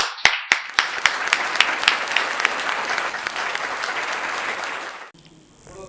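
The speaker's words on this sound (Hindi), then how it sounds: "जोरदार तालियों के साथ" Loud applause from an audience at a Hindi poetry gathering greets a poet: a few sharp opening claps build quickly into dense, sustained clapping that carries on for several seconds before cutting off abruptly.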